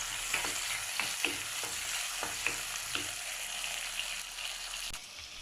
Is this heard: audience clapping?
no